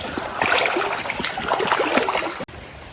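A mountain stream rushes steadily nearby as a dense, broadband wash of flowing water, then cuts off abruptly just before the end.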